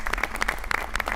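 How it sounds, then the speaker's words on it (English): Scattered applause in an auditorium at a Board of Education meeting, a small group clapping with distinct individual hand claps that are fairly close and moderately loud. "Give him a round of applause."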